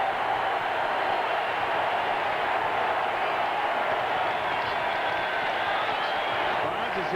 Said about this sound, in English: listen to this crowd as they get up and out of their seats